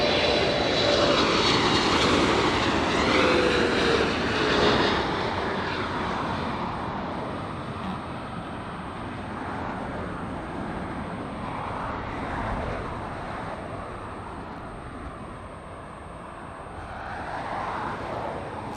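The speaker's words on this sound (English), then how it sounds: "Big 777 touching down here in the north side." A Cathay Pacific Boeing 777 in oneworld livery touches down on the north side at LAX, its engines a loud broad roar that slowly eases and fades as the jet rolls out, heard alone without voices.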